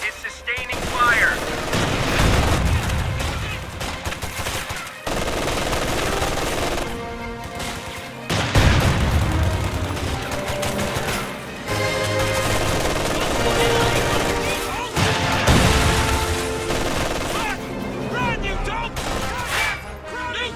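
Sustained heavy machine gun fire in Company of Heroes 2, dense bursts of gunfire and battle noise running almost continuously, with brief lulls, under shouted in-game voices.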